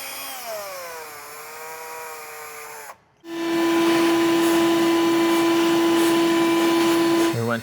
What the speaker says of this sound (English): So you drill a hole right through the center, and then the larger one will make it stick.